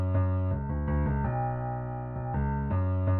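Low grand piano bass notes with a long decay, sampled for an aggressive Baton Rouge trap beat in FL Studio 20. A few deep, sustained notes ring one after another, each held around half a second to a second, loud and clear with no talk.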